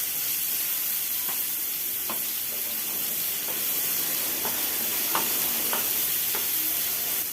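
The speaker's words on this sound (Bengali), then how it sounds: "এবারে পেঁয়াজটাকে হালকা করে একটু ভেজে নিচ্ছি।" Chopped onion frying lightly in a pan, a steady broadband sizzle throughout with a few soft scraping stirs of a utensil, close and continuous with no talking.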